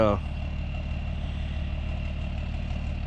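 An old John Deere 4230 tractor engine idling near a machine shed, a steady low rumbling drone that holds evenly throughout after a brief voice at the very start.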